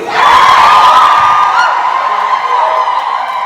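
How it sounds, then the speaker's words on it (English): An audience at a high-end fashion show bursts into loud shouted war cries and cheering on cue, a dense close roar of mixed voices that swells at once and then slowly tapers. "Give me your best war cry, give me your best cheer, anything you want to do"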